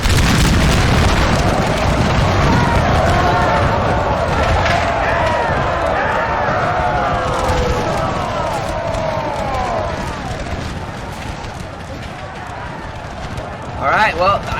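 Massed musket volleys and booming cannon fire from a large-scale Napoleonic battle in Napoleon Total War with the Grand Battle mod, a loud continuous roar of gunfire, explosions and crowd-like battle noise throughout, with a sharp burst near the end.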